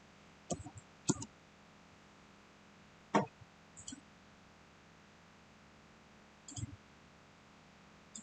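Computer mouse clicks while editing a spur gear part in SolidWorks: a few sharp, close clicks, paired near the start, then scattered singles, over a quiet room hiss.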